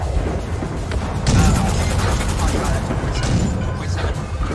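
Cannon fire in a naval battle video game, a dense barrage of booms and blasts rolling continuously, loud and close, with game noise filling the whole stretch and no clear talk.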